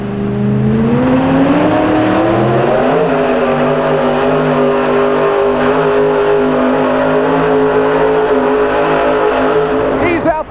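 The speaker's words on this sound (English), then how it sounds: "Listen to this truck." A super modified pulling truck engine roars loud and steady at a 1990 truck pull, its pitch rising over the first few seconds and then holding a sustained, near, throaty drone that fills the whole stretch.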